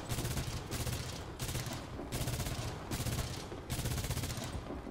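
Anti-aircraft cannon fire from a Chinese ZSD63 self-propelled anti-air gun in War Thunder: four sustained bursts of rapid, loud automatic shots separated by short pauses, with no talking.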